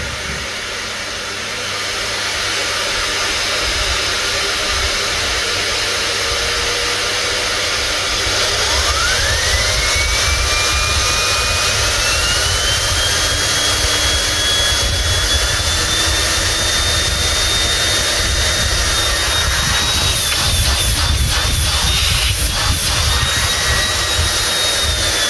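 A Bosch GL-30 bagged vacuum cleaner runs on low speed with a steady, loud, breathy whoosh that swells slightly partway through, with a thin tone that rises in pitch.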